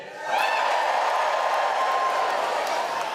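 A live talent-show audience cheers and shouts together, a loud, dense crowd roar that swells quickly and holds steady throughout.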